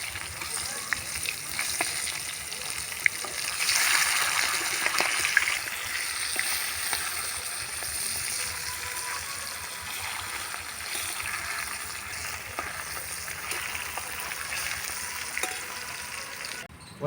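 Pangas fish frying in hot mustard oil gives a steady, moderately loud broadband sizzle with crackles and a few sharp pops, continuous throughout with no talking.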